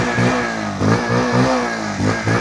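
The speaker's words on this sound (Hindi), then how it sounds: "इंजन साउंड सुनो, एग्जॉस्ट नोट सुनो। थ्रॉटल देता हूँ" Engine of a new Bajaj Pulsar 150 motorcycle, revved up with repeated throttle blips: four or five short surges over a steady idle, close and loud.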